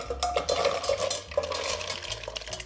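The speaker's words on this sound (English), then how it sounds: "This is already kind of boiling, so we're gonna put our mussels in." Shells clatter and scrape as mussels tumble into a bubbling pot, with metallic stirring and a soft simmer underneath.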